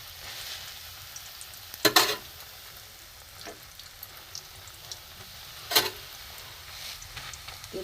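Bread and potatoes fry in a small kadai with a soft, steady sizzle, broken by a few sharp clinks and scrapes of a utensil against the pan.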